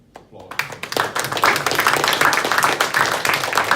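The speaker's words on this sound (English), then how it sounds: "Let's give them a big applause" Applause for students at Doonside Technology High School, a dense burst of clapping from a group that starts abruptly and swells into steady, close, sustained hand claps.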